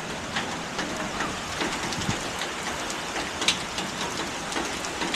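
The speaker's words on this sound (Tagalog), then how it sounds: "Lakas ng ulan." Downpour of heavy rain beats on nearby surfaces outside a small store, a constant dense patter with occasional sharper drips and taps standing out, no talking.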